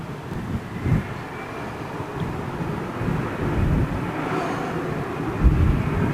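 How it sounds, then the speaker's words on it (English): Air India A320neo jet airliner returning from flight test circuits, a steady distant broadband roar of jet engines with wind buffeting the microphone and a few low gusty thumps, no voices. "Air India 320 Neo on its way back in from circuit tests, flight test"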